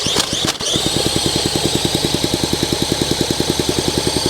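A Honda SL125 motorcycle engine runs at a steady, fast idle after its idle and air screw are adjusted, with rhythmic, evenly spaced exhaust pulses, loud and close, preceded by a brief clatter at the start.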